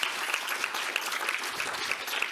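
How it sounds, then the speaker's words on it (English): An audience at an academic event on Earth system boundaries claps for a group of researchers, a sustained, even patter of many hands at medium distance. "a round of applause"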